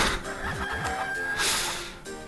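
Cucco chickens in the Zelda game Minish Cap cluck and squawk in a busy, layered burst of game sound, loud and continuous over a short stretch with a sharp crowing peak partway through.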